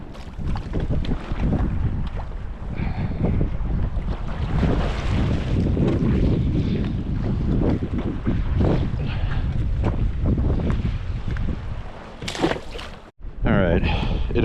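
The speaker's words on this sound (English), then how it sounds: "It appears as though the wind is letting up at least a little bit" Wind blowing across open water during autumn kayak fishing in New York, a constant loud rumble buffeting the microphone with splashing underneath, while someone talks over it almost throughout.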